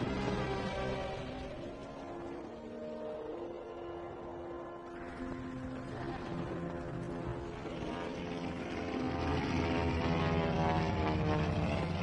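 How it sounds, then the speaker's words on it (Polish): A propeller airplane circling overhead in a dry land without rain: a steady droning engine hum whose pitch slowly shifts as it passes, moderately loud and alone. "Drogi ojcze, samolot nad nami krążył."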